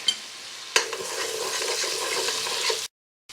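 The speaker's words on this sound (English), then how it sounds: "I'm going to put the garlic in and cook for about 1 minute more" Garlic and onions frying in a soup pot after going translucent, a sharp clatter as they drop in, then a steady close sizzle with light stirring before it cuts to silence.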